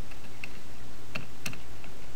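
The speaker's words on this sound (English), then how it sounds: "to switch quickly between object mode and edit mode, you can use Tab on your keyboard" Computer keyboard keys are pressed during work in Blender, a few soft, close clicks spaced irregularly over a steady background hiss.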